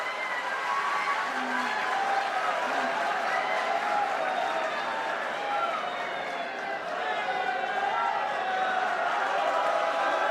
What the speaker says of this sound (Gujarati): એકવાર તાળી પડે